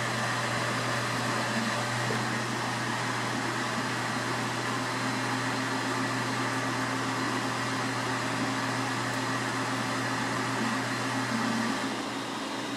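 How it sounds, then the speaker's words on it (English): 3D printers running with their cooling fans blowing, making a steady, even whir and hum with a low motor drone. The sound holds at a moderate level for about twelve seconds before easing slightly at the end, with no talking. "I have one going on back here and these fans are still blowing."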